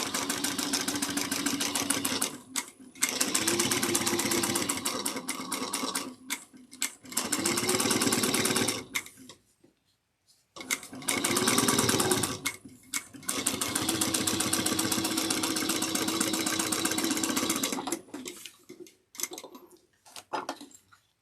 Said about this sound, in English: we're going to sew this at 3/8 of an inch